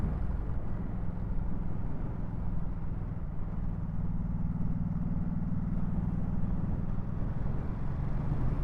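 A 2024 Ducati Supersport 950S motorcycle rides steadily in third gear, its engine giving a continuous low, even drone with a slight rise in pitch midway, close and constant throughout with no talking.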